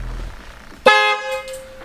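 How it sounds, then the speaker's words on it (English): A single car horn blast at a performance car shop, loud and close, sounding briefly after a quiet start and then fading. "See if the horn blows."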